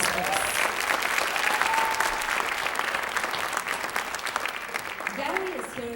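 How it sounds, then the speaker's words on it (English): An audience applauds after a unicycle performance at a Bollywood Bash event, a dense, steady wash of clapping filling the room throughout, with crowd noise and a voice faintly surfacing near the end. "A big round of applause, please"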